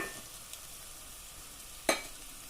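Masalas and golden-browned onions frying in a pan for a mutton kofta curry are given a quick stir: a soft, steady sizzle with one sharp scrape or clatter near the end.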